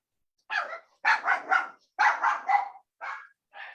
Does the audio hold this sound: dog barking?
yes